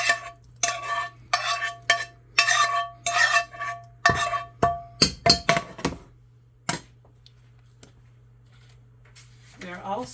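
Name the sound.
mushrooms dumped into a pan and stirred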